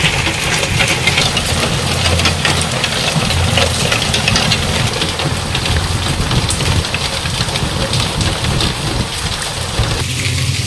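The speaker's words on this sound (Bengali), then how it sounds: "খুব সুন্দর বৃষ্টিটা হচ্ছে এবার।" Steady, heavy rainfall pours continuously, a dense wash of noise close by with a low rumble underneath; no one speaks.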